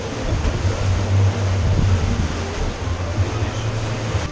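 Rough seas of about four meters with 30-knot wind break around a Lagoon 42 sailing catamaran crossing the Bay of Biscay, a loud, constant roaring wash of water with a low droning rumble underneath.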